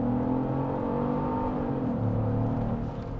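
A Genesis GV70 facelift SUV accelerating from inside the cabin, a steady loud engine drone rising in pitch then settling as it shifts, continuous and close.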